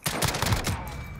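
Rapid gunshots in Call of Duty: Modern Warfare, a quick burst of about four loud close shots in succession, trailing off into a short ringing tail.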